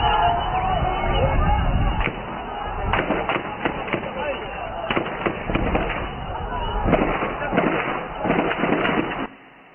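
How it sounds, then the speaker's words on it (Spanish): Gunshots in documentary footage of Palestinians running for cover near an Israeli position, a series of sharp cracks in irregular clusters, some single and some rapid, over a background of voices and crowd noise. "aun cuando se oyen disparos y vemos palestinos que corren a cubrirse"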